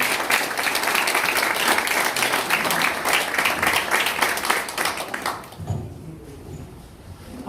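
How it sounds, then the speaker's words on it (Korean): Audience applause welcoming a party chairman at a People Power Party Incheon campaign committee disbandment ceremony in a conference hall; dense, loud clapping for about five seconds, then fading into quieter room noise. "큰 박수로 환영해 주시기 바랍니다"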